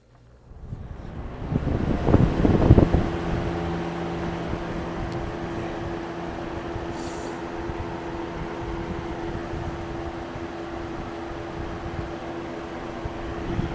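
A Lakewood third-generation box fan with an oil-ported motor, running on high speed: a steady whooshing airflow and motor hum with tonal whine after a brief startup swell, close and constant.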